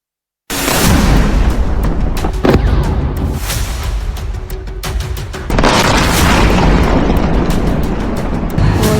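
Loud, deep booms from air strikes on cities roll in one after another, with heavy rumbling blasts and crackling debris layered into a dense, continuous barrage.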